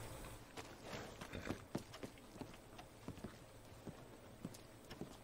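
Horse hooves clip-clopping at a steady walking gait in the Red Dead Redemption 2 Online western game, quiet and fairly distant, with soft, evenly spaced footfalls.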